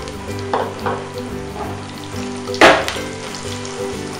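Curry leaves and a pinch of asafoetida hit hot oil for kulichi bhaji, bursting into a sharp crackling sizzle with a few louder pops, one especially strong spatter midway, close and without talk.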